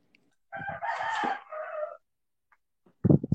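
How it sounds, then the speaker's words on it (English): Roosters in Bali crow from a short distance, with one long, clear cock-a-doodle-doo that rises and falls. A brief burst of nearby speech follows at the end. "We're hearing the cocks crowing in the background"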